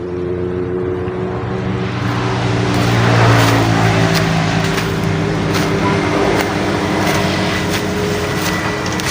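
Car passing by on a roadside where trees are being cut, a loud steady engine and road rumble that swells and fades, recorded nearby with no talking.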